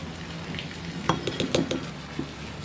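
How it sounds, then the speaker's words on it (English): Wasabi powder being stirred into a sauce, giving soft scraping and light clinks of a utensil against a bowl in a few close, irregular strokes over a steady low hiss. "Just mix it."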